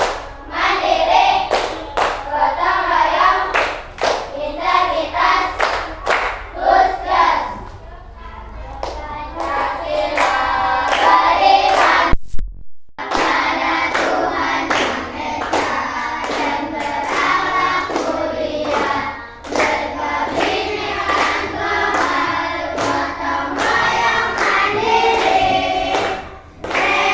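A classroom of pupils in Indonesia performs a rhythmic clapping chant, with many voices chanting in unison between sharp patterned handclaps, loud and close, with one brief break before it resumes.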